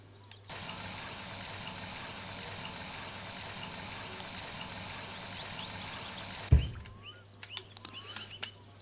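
Water is collected in the My Summer Car game as a steady rushing, pump-like fill that runs for about six seconds, stops with a sharp thud, and gives way to quiet ambience with faint birdlike chirps.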